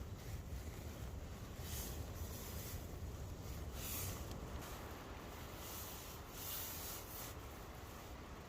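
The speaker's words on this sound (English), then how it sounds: "I gotta push the wall back because it's being blown by the wind" Gusts of wind press and flap against a tent wall on a cold night, a steady rushing roar with rubbing surges close to the microphone.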